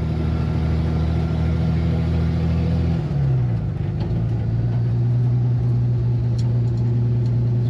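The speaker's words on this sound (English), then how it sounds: "My clutch is slipping." A Jeep crawls up a steep hill with a slipping clutch, giving a loud, steady low engine drone that drops in pitch partway through and then settles at a lower, even hum.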